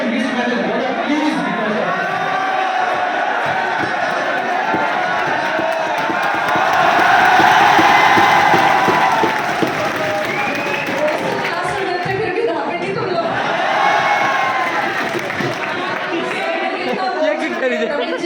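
A large crowd of students at a 16th foundation celebration cheers and chatters continuously, swelling into louder whoops and clapping midway and again later, with voices talking throughout.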